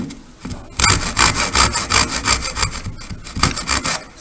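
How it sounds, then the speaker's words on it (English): A tenon saw cuts through a wooden mirror-frame piece clamped in a vise, a steady close rhythm of bright rasping strokes, about a dozen back-and-forth passes with a short pause partway. "Use my tenon saw."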